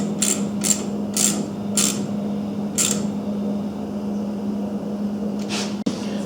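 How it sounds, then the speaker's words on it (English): A ratchet with a 6mm socket working a hose clamp on a Kawasaki Mule 3010 engine, several short clicking bursts in a quick series, close up over a steady low hum, no speech. "6mm socket for the hose clamp."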